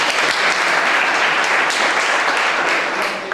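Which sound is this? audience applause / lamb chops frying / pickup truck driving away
audience applause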